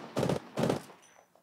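Two short bursts of video-game gunfire during an online shooter match, each lasting about a quarter second, loud and close, followed by a quieter tail with faint ambient tones.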